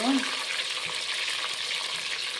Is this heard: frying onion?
yes